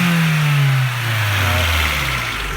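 A first-generation Honda CR-V engine fitted with an Integra intake revs and then drops, its deep tone falling steadily in pitch as the revs ease off, loud and close.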